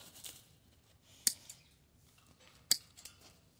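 Two sharp, crisp snips of trimmers cutting a sheep's hoof, spaced about a second and a half apart, each followed by a faint click, close up against a quiet background.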